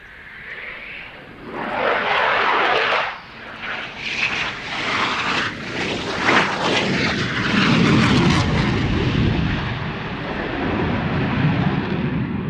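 A Eurofighter Typhoon jet performs an air show display at the Royal International Air Tattoo, rolling and pitching at once; its loud engine roar swells and fades in powerful surges, with no talk.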